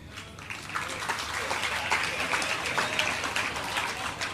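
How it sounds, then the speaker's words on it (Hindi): Listeners at a live Jain religious discourse by Sudha Sagar Ji Maharaj clap together, a continuous, moderately loud patter of many hands filling a hall without pause. "अरे तालियां बजी"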